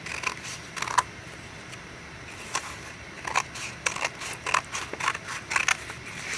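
Scissors snip diagonally across a sheet of paper for a 3D lizard craft, a run of short crisp cuts in uneven bursts, close and fairly quiet with no talking.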